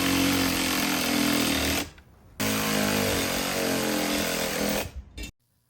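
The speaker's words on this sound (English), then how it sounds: "I'm going to use my Milwaukee ratchet, which is a great tool" A Milwaukee power ratchet driving a lag bolt into wood while mounting a mini split wall bracket: two bursts of loud, close, buzzing mechanical whir separated by a brief pause, ending abruptly.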